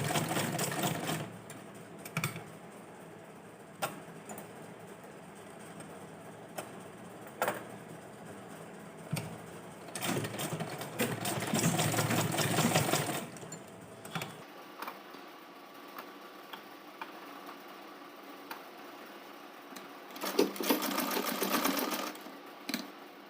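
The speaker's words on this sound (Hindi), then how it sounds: "अब हम इसके ऊपर सिलाई लगाएंगे एकदम किनारे से" Topstitching runs along the very edge of a folded, joined fabric strip on a sewing machine. The motor whirs in several stop-start runs of varying length, loud and close, with short quiet gaps between them and no talking.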